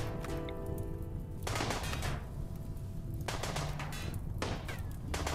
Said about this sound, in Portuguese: Ele ainda deu mais um tiro.